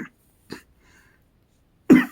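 Someone coughs several times in short, close bursts separated by quiet gaps, ending with a stronger, throatier cough.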